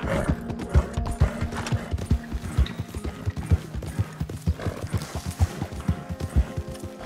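Rapid, rhythmic hoof clops pound steadily throughout, with a horse's whinny rising briefly amid the galloping, close and fairly loud, from the video game Red Dead Online.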